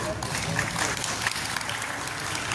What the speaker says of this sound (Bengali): আমরা করতালির মাধ্যমে শুভেচ্ছা জানাতে পারি